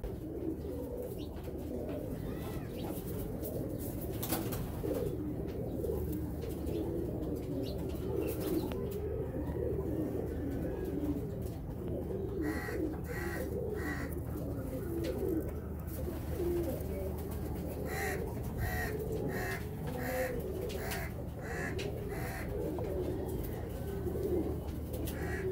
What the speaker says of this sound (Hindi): और ये रंगीन कुंदों के कबूतर हैं जैसे कि आप देख रहे हैं।